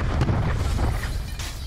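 Shotgun gunfire in the video game Black Ops 4 comes as a loud, close, heavy blast that rolls into a deep rumbling boom and fades, with no talking over it.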